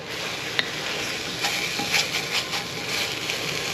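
A spoon stirs sofrito with pancetta sizzling in a pot, a soft continuous fry with scraping and a few light clinks of utensil against metal, close and steady.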